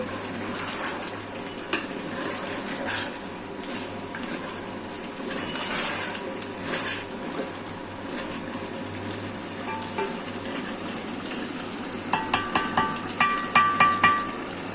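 Partly boiled beef is stirred and fried in a pot under a continuous watery sizzle, ending in a run of quick metallic scrapes and clinks as the spoon works through the meat.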